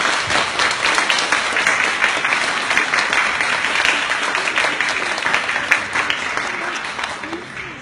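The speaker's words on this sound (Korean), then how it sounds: "뜨거운 박수 부탁드립니다." Audience applause at a painting-and-piano concert event, dense continuous clapping from a large crowd that stays loud for several seconds and tapers slightly at the end.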